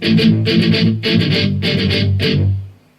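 Heavy, chugging distorted electric guitar chords, palm-muted and rhythmic, in a pop-punk style, strummed in short bursts before ringing out and fading at the end.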